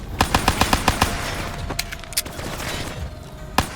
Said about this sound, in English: I wonder if I can shoot it to death with my pistol.